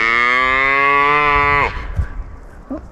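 Cattle lowing in a thick-grass pasture: one long, loud, sustained moo close by lasting over a second and a half, then quieter rustling and a faint short low call near the end.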